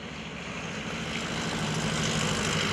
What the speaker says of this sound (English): It is a very popular home-built aircraft.